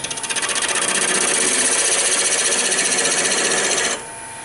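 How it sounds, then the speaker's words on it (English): A spindle gouge cuts wood on a lathe turning at 900 RPM, giving a steady, close, rasping whir with a fast regular pulse that stops abruptly near the end. "So I'm going to switch to my spindle gouge."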